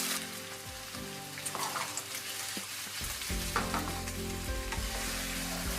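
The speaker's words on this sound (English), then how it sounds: "Then add in the cubed firm tofu and continue to stir fry for another 3" Vegan soy-protein chicken and cubed firm tofu stir-frying in a hot pan, a dense steady sizzle with occasional scrapes and stirring knocks, close and continuous.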